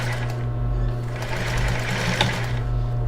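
A sewing machine runs a backstitch while sewing elastic onto a lace-trimmed bra, a steady close whirring hum with a fast needle rhythm for about three seconds, one brief louder clack near the end.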